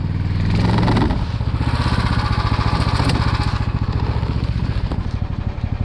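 Motor vehicle pushing through forest bushes on a trip to a woodland river, its engine running loud and close with a steady, rough pulsing drone and some clatter throughout.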